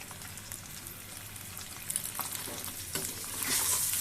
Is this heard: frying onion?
yes